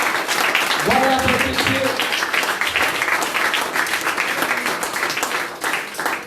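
A church congregation applauds the Lord during worship, with sustained broadband clapping throughout, loud and close, while someone speaks over it and briefly sings near the start.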